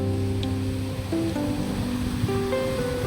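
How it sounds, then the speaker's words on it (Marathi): Ocean waves at high tide roll in as a steady, unbroken surf wash that stays even and continuous throughout. "भरती आहे त्याच्यामुळे हळूहळू लाटा एकदम पुढे पुढे येत आहेत"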